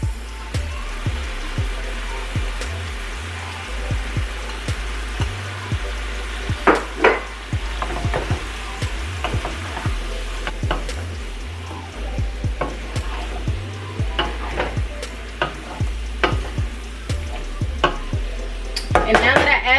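Tomatoes are added to vegetables frying in a pan and stirred in, with a constant sizzle broken by repeated knocks and scrapes of the utensil against the pan.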